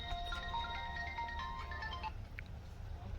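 A phone ringtone plays as a call is placed, a steady repeating electronic tone pattern heard clearly for about two seconds before stopping, with low background hum underneath.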